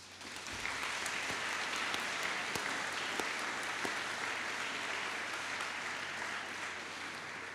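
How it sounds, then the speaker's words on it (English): Sustained applause from a crowd at a trainee graduation ceremony, a dense, even wash of clapping that continues steadily from start to finish. "let's give them all a round of applause"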